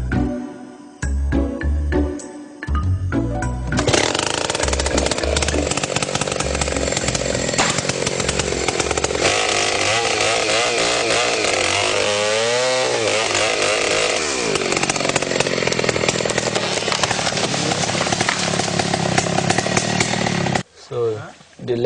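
A chainsaw cuts wood during small-scale logging in Lagos, Nigeria. After a few sputtering revs, it settles into a loud, close, sustained whine with shifting pitch as the blade bites, running for about eighteen seconds before cutting out.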